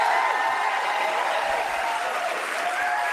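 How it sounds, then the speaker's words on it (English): A live talk radio studio audience cheers and applauds, a dense, steady wash of clapping and crowd noise that carries on without a break and eases off slightly toward the end. "By the way, this is the first time you've even heard from the crowd."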